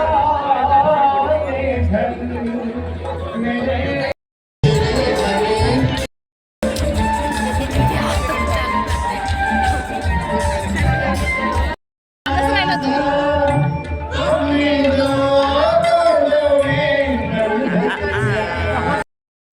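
A dense festival crowd at Gadchiroli Mahotsav fills the air with close, overlapping chatter and laughter, broken by a few brief cuts of silence, with nearby voices talking over the hubbub.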